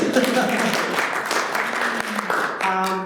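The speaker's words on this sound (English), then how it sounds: "Give yourselves a round of applause." Brief applause from a small crowd, with voices talking over the clapping for a few seconds.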